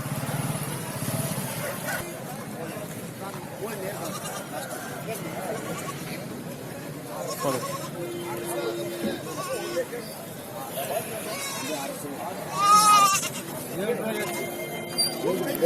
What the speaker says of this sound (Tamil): ஆட்டு சந்தை இருக்குது